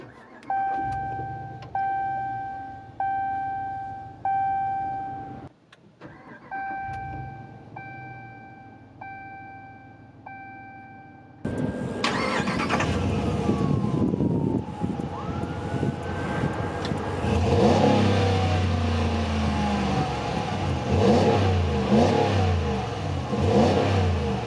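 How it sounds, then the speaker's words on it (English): Repeated electronic chimes ring in a steady pattern, then a 2020 Ram 1500 Limited pickup's 5.7-liter Hemi V8 cranks by push-button start and roars to life, settling into a deep, rumbling idle with occasional revs. "The Ram 1500 Limited has a push-button start, so let's press the button and start it up."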